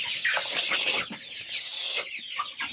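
Large broiler chickens on a poultry farm cluck and squawk in a few close, loud bursts with brief pauses between them.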